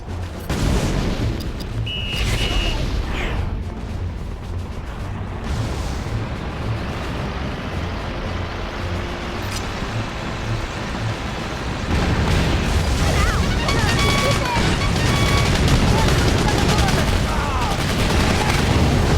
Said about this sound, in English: Looks like we got ourselves a firefight.